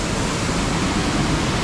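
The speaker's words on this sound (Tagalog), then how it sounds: "Ari po ang talon." Steady, dense roar of a waterfall in an unnamed natural cascade, loud and continuous with no talk over it.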